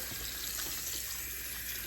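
Water runs steadily from a tap into a bucket, a quiet, even broadband rush that holds unchanged throughout with no talking.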